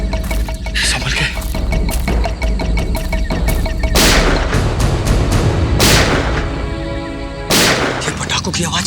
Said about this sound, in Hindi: ये पटाखों की आवाज कैसी आ रही है? जंगल में पटाखे कौन चला रहा है?